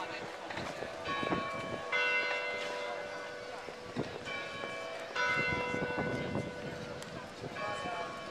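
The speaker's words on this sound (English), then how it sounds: "it's time for bells again" Church bells of Notre Dame ringing in a town square, with repeated clanging peals that come in waves over several seconds, moderately distant, mixed with crowd noise and street ambience.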